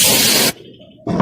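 A shaken aerosol can sprays sealant onto a leaking roof, giving a loud, broad hiss in two bursts separated by a brief quieter pause with faint voices in the background.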